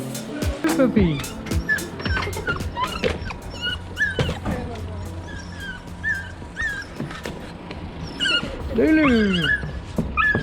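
A puppy whimpers, yips and squeals in high, rising cries at an airport reunion after coming off a plane, with excited voices greeting it in between and a burst of shrill yelps near the end.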